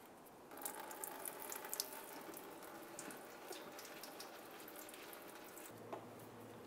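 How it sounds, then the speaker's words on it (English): Coolant draining from a 2005-2010 Dodge Dakota radiator drain into a collection receptacle, a steady faint trickle and splash of liquid running continuously with no voices. "turn it counterclockwise, and start draining the coolant into a collection receptacle."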